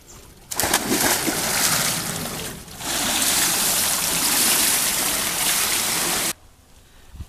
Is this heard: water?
yes